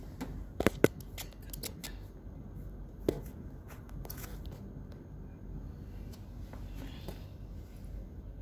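Scissors snip at household plastic while a bin liner is changed, giving a few sharp close clicks early on and another around the middle, over soft rustling and handling noise, with no speech.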